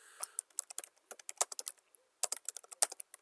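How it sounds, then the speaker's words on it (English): Someone types on a computer keyboard in quick, close bursts of crisp key clicks, pauses for about a second, then types another fast burst, with no talking. "I'm just kind of typing this in"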